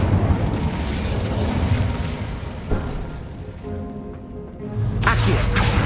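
The Incendio fire spell cast in Hogwarts Legacy lands as a loud whooshing, booming burst of flame, fading briefly before another fiery surge near the end.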